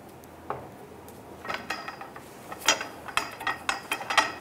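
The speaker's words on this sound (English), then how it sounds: "Torque down your shock bolt to 100 foot-pounds." Wrench ratcheting on a front shock absorber bolt of a 2002-2008 Dodge Ram 1500, bursts of quick metallic clicks that grow denser and louder toward the end, close and with no voices.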